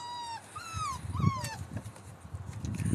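Neighbours' dogs in a rural area give high, sliding whimpers and yips, several overlapping cries rising and falling over a few seconds, moderately near with faint background noise.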